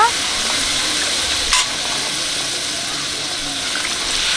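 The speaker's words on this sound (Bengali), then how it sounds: "আলু কষা হয়ে গেছে জল দিয়ে দিচ্ছি ঝোলের জন্য" Water poured onto potatoes frying for a curry gravy: a steady sizzle runs throughout, with a brief sharper splash and hiss near the midpoint as the water hits the hot pan.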